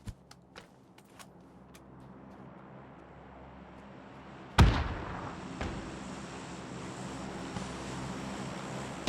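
A flashbang grenade bursts in PUBG on the Miramar map: one sudden loud close blast midway, leaving a lingering bright ringing wash, after fainter distant gunshot pops.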